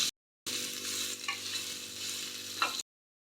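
Boiled soya chunks and garlic sizzle in a pan over a medium flame, a soft steady frying hiss with a few light scrapes of stirring, brief and quiet with no voices.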